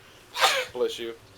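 A single sneeze close to the microphone, a sharp burst followed by a short voiced trailing exhale, heard during a tabletop game session.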